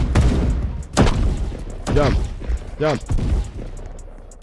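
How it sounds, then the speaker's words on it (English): Sharp gunshots in the Roblox game Da Hood fire in quick succession, a few loud thuds spaced about a second apart, while someone speaks briefly over them. "I'm gonna shoot this man"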